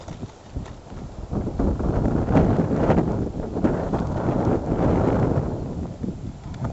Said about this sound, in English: It's a little windy right now, so hopefully it won't wreck the sound.